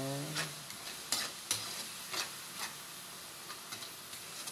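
Ground meat and shrimp paste sautéing in a pan, with soft sizzling under repeated scrapes and stirs of a utensil, close and moderately quiet, no talking.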